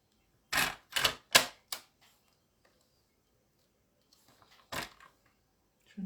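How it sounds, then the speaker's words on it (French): A paper trimmer cuts cardstock for scrapbooking with a quick run of four sharp clicks, then softer scraping and one more snap after a pause, all close and quiet. "Je vais reprendre mon coupe-papier pour avoir une découpe nette."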